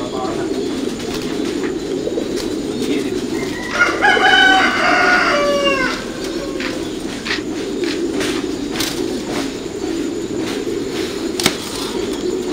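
Thai Titan pigeons on a pigeon farm, a soft cooing burst standing out near the middle against a constant background of farm birds and ambient noise.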